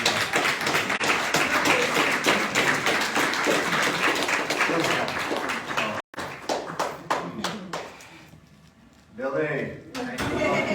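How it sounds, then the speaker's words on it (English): An audience at a panel discussion gives a dense round of applause for about six seconds, then the clapping stops and a voice speaks over a quieter room. "we all should give her a round of applause for all her work"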